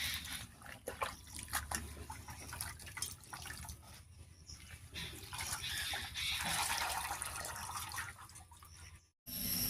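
Water splashes and trickles as pumpkin leaves are rinsed by hand, soft irregular drips and sloshing close by at low volume, with a brief silence near the end.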